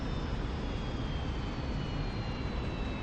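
An F-86F Sabre jet in the DCS flight simulator rolls out on landing with its throttle pulled fully back, a steady broadband engine and wind roar holding constant throughout, with a faint high whine above it.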